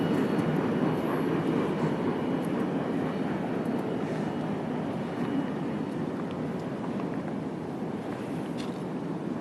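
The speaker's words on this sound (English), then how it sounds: "That's the same train that passed us at Ground Zero." A CSX train rolls past near the Ground Zero rail spot, a loud, steady low rumble of wheels and cars that holds for the whole stretch, with faint clanks riding on top.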